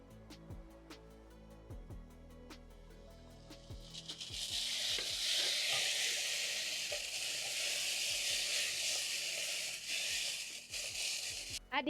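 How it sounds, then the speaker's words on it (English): Garlic and ginger sizzle in a hot pan, a few clinks and stirs at first, then a loud, steady frying hiss swells and holds to the end with no talking. "Cook your garlic and ginger for around 30 seconds"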